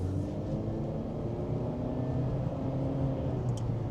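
A 2025 Honda CR-V with a turbocharged engine and CVT accelerates, giving a steady, even low drone with no shifts and no talk over it.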